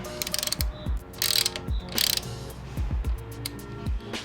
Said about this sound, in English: I'm gonna use a 6mm and crank away at this bad boy right over here.